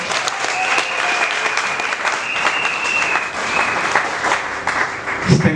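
Audience at the official launch of a Kasai Central yearbook applauds loudly and steadily, a dense wash of clapping that carries on throughout with faint crowd voices beneath.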